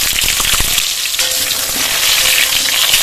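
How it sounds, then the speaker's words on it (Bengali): Potatoes fry in hot mustard oil in a wok for a village-style mutton curry meal, a loud, steady, dense sizzle that runs the whole time with a few brief stirring knocks near the start. "কড়া গরম হয়ে গেছে, সর্ষের তেল দিয়ে দেবো কড়ায়। আলু দিয়ে দেবো।"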